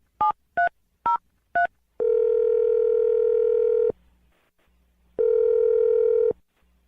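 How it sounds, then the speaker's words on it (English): A telephone number is dialed for a radio call. Four quick touch-tone beeps come first, evenly spaced, then two long steady ringback tones with a pause between them. "We're going to dial the phone number right now and try and get your second date update."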